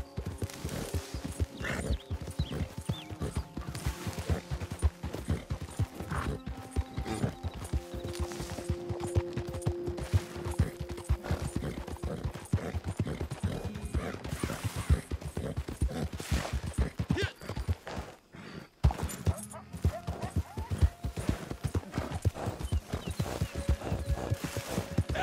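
A horse gallops in Red Dead Redemption 2 with rapid, continuous hoofbeats and game sound effects, holding a steady rhythm that breaks off briefly near the end.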